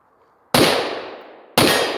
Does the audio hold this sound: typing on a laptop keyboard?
no